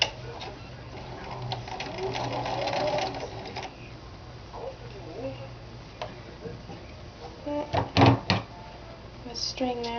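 A sewing machine stitches a Kapp-style Christian head covering cap, running in short whirring bursts with stops and a few clicks and knocks, close by, with faint talk under it.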